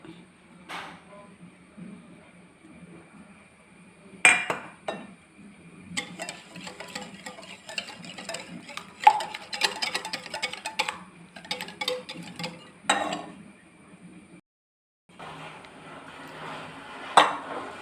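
Repeated scraping and clinking of a spoon against a bowl as butter and sugar are mashed, in short bursts with brief pauses, close and moderately loud.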